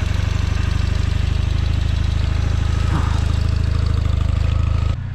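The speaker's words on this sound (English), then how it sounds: "This year I'm going to let the engine run until the tank is totally empty" Motorcycle engine idling in freezing cold to run the fuel tank empty, a loud, close, steady rhythmic putter that drops slightly in level near the end.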